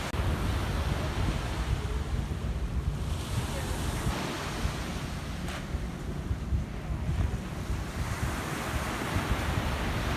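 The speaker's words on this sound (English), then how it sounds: "Pretty light wind." Light wind blows on a beach while a kite made of dowel rods and trash bags flies. A steady, even rush of wind mixes with soft surf, loud and continuous throughout with no break.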